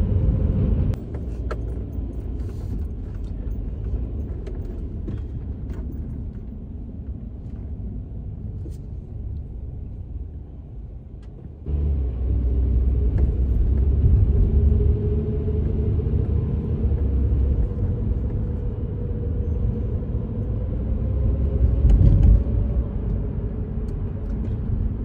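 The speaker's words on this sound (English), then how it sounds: "imagine yourselves in the car with me, tagging along as we ride around the streets of our beloved Paterson" A car's interior rumble while driving through city streets in Paterson, New Jersey, a steady low engine and road drone that swells louder midway, with faint passing traffic.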